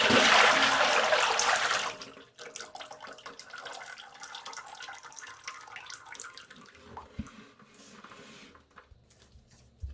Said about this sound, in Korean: 끓여놓은 물엿을 부어줄 거예요.